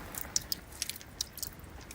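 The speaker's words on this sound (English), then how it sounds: "That's the sound of rapid melting" Melting icebergs off northwest Greenland during unusually warm days give a sparse series of sharp little crackles, pops and fizzing clicks, quiet and close, scattered irregularly over still water with no voices.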